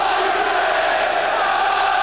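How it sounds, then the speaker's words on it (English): A noisy Arsenal football crowd roars steadily through a corner kick in a 1993 European Cup Winners' Cup tie against Standard Liege, a dense, continuous wall of stadium noise with no clear individual voices. "Good noisy Arsenal crowd as Merson fires in the corner."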